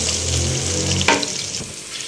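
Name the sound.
frying whole black peppercorns in oil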